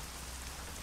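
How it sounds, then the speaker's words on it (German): Steady rain pattering on surfaces in Euro Truck Simulator 2, a dense, even wash of drops with no other sounds. "Ich wünschte, es würde aufhören zu regnen."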